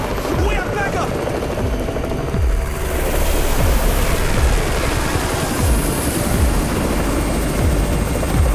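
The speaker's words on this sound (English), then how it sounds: "It's the Raven's chopper!" A helicopter arrives in the zombie video game Undawn, its rotor thumping in a steady, loud rhythm alongside wind-like roar.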